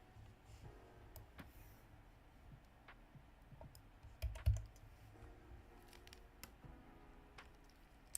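Soft, quiet clicking of computer keyboard keys in a room, sparse taps scattered over a low steady background hum, with a brief louder cluster of clicks midway.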